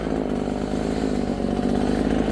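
A Holzfforma gas backpack leaf blower runs outdoors in tall, uncut grass, its two-stroke engine giving a loud, steady, buzzing roar close to the microphone throughout, with no voices.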